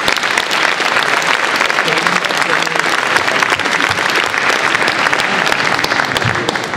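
An awards-ceremony audience at a science-fiction festival breaks into loud, sustained applause, a dense, steady wash of clapping hands filling the whole stretch with no pause.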